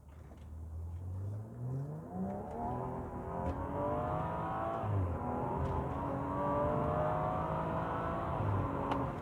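A 2014 BMW M135i with performance engine accelerating hard up to 60 mph from inside, engine note rising repeatedly with quick upshifts between gears, steady and prominent without speech.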